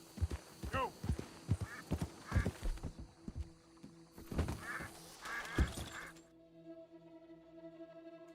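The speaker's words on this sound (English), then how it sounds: "Those sound like ducks" Ducks quack in the open world of Red Dead Redemption 2 amid a horse's clip-clop hooves and occasional whinnies, a cluster of nasal calls rising near the middle, with game ambience and some voice beneath.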